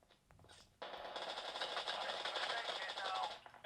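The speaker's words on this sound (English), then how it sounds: "Oh, I got someone shooting at me." Rapid automatic gunfire in a mobile shooter game played on a Galaxy Tab S6 tablet, a dense continuous rattle of shots that starts abruptly and runs steadily for a few seconds, with faint speech underneath.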